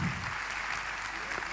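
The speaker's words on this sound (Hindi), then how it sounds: "चलिए तालियां बजा दीजिए जो लोग आ रहे हैं उनके लिए।" Brief applause from an audience at an achievers day celebration event, a short burst of dense clapping at moderate volume.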